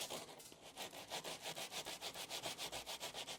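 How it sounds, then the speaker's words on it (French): Hand sanding of wooden window glazing bars at a double-glazing job in Loire-Atlantique, with quick, even back-and-forth strokes in a steady rhythm, close and soft, with no voices. "ponçage."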